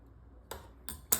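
Scissors snip through tape three times, each one a short, sharp crisp cut up close, spaced out in quiet with no talking.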